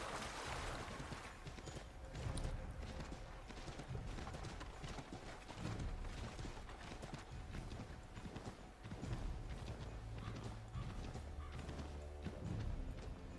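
Horse hooves clip-clop in a steady, rapid rhythm during a ride in the video game Assassin's Creed III, with the gallop continuing throughout under dense game ambience and occasional heavier thumps.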